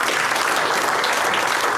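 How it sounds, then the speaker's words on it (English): Staff at a business clap together in a steady, dense round of applause, loud and close, filling the whole moment with no talking over it. "give yourselves a round of applause"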